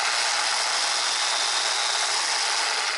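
Makita PO5000C dual action polisher running in its dual action mode, a steady broadband whir with a faint low hum, close and continuous with no talk.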